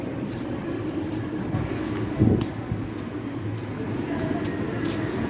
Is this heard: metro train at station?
yes